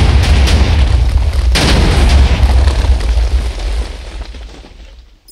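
A Minecraft 75-layer TNT cannon fires with a heavy, booming explosion, loud and close, followed by a rumbling roar that slowly fades out over several seconds.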